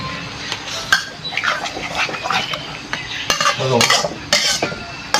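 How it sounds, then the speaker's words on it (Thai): Utensils scrape and clink against a pan in steady, busy stirring strokes as a mixture thickens over the heat, close by and fairly loud, with no talking. "ใส่ไปเลยก็คน ไปเรื่อยๆจนให้มันเหนียวหน่อยครับ"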